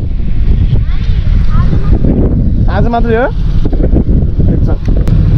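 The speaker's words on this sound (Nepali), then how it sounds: "कस्तो हावा लाग्यो यार" Strong wind blows during a morning off-road trip to Rara in Nepal, a steady, blustery roar buffeting the microphone throughout while people talk over it.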